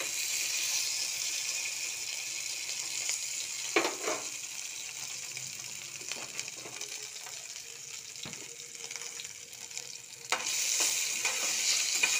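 Potatoes with cumin seeds frying in hot oil make a continuous close sizzle, with occasional stirring knocks and a louder surge of crackling near the end.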